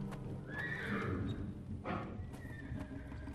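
Nervous horses in the adventure game Geheimakte 3 neigh in a loud, shrill whinny, then a second shorter whinny, over steady hoof clip-clop and stable ambience.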